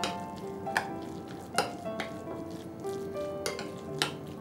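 Chana dal and cabbage tikki mixture is stirred with besan in a metal bowl. A spoon scrapes and clinks against the vessel in several distinct strokes over a soft background, with faint tonal ringing after each clink.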